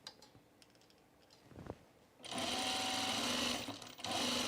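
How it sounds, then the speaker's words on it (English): Sewing machine stitching a seam on a V-neck coat, starting after a couple of seconds of quiet handling clicks and then running steadily and close for the rest of the clip with one brief pause. "I'm going to just sew it at the regular seam allowance because this is going to be the hem"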